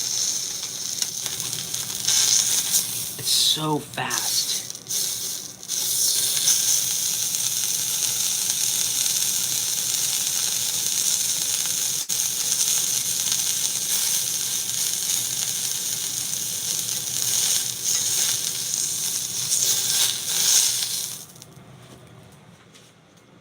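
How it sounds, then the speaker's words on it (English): Loud, steady sizzling of a Kobe wagyu beef steak frying in a hot pan, a constant hiss with brief crackles, and a voice speaking briefly over it. "Sizzle, sizzle."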